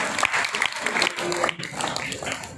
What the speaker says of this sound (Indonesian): Lagi kasih tepuk tangan, kasih semangat.